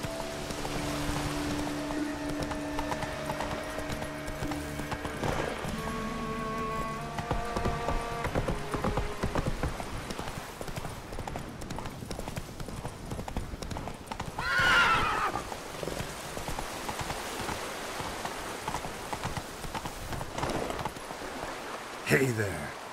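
Roach, a horse in The Witcher 3, clip-clops at a steady gallop and whinnies once partway through, the hooves staying close and clear while someone speaks over them at times.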